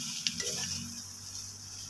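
Hot oil in a kadai sizzles steadily up close, with a couple of brief stirring clicks near the start and no voices.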